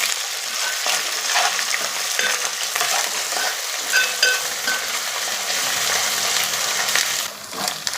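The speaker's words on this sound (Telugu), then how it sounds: "ఈ అల్లం వెల్లుల్లి పేస్ట్ పచ్చివాసన పోయే వరకు మనం ఫ్రై చేసుకోవాలండి." Ginger garlic paste frying with onions in a pan makes a steady, close sizzle, with stirring scrapes and small clinks running on without a break and no talk.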